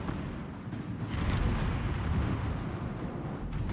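The battleship Massachusetts fires its main guns in a video game, a heavy booming salvo that swells into a long rolling rumble, loud and continuous with a few further rumbles late on, no voices.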